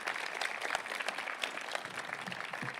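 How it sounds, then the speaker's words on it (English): A graduation audience at a high school ceremony claps for parents and teachers, a soft, even patter of many hands heard from a distance with no one speaking. "can I get a round of applause for the parents, teachers, and anyone else that had a hand in helping you make it to this day?"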